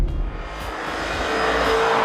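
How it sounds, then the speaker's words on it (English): Lamborghini Urus SUV engine and exhaust roaring loudly and steadily under hard acceleration, a dense broadband drone that builds slightly in intensity over two seconds with no talking. "Listen to that, that's where it literally lives up to that Lamborghini sports car."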